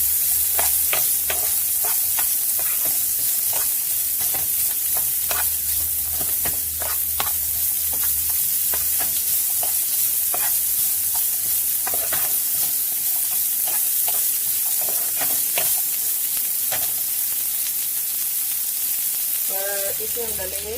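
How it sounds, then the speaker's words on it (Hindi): Onions sauté in a pan for hash browns with a constant, loud frying sizzle and a hiss, broken by frequent sharp stirring and scraping strokes of a spatula throughout. "इसमें हम डालेंगे ऑनियन, जिस इनको हमने जस्ट सौटे ही करना है"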